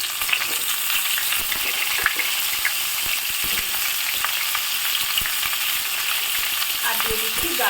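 Papaya fries with vegetables in a pan, making a loud, dense, close sizzle that runs throughout, with occasional stirring clicks and no speech.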